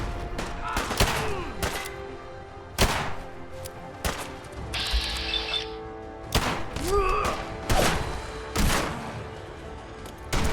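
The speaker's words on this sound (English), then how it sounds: "Harpoons hitting stuff. No, that's the sound they make when they fire." Harpoon guns firing in Fallout 4, repeated sharp heavy shots and thuds at irregular intervals during combat, loud and close, with a brief hiss partway through.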